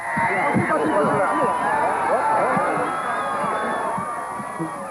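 Crowd noise from people gathered along a 1990 Twin Cities motorcade stop greeting Mikhail Gorbachev, a dense wash of many voices and calls, steady and fairly loud, with a reporter talking over it.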